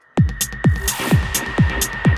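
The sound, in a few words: track played with a long reverb in Ableton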